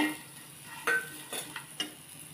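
Raw mango with jaggery and salt is sautéed in a pan, giving a quiet sizzle broken by a few light scrapes and clinks of a spatula.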